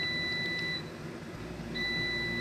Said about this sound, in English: which you can actually hear beeping in the background while I'm cooking another recipe